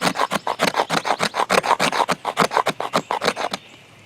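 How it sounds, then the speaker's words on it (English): Knife spine scraping fine wood shavings for fire tinder, a rapid series of about twenty short rasping strokes in steady rhythm, close and fairly loud, ending in quiet. "You just use the sharpened end of the spine and you can make real fine shavings."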